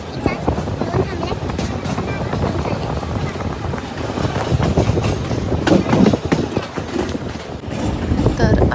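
Trains moving through a busy Mumbai CST station, a steady rumbling roar of rail noise with rattling carriages throughout, loud and close, with voices talking over it.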